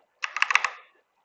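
Half a dozen quick, crisp key presses on a computer keyboard come in a fast burst, close and clear with silence before and after.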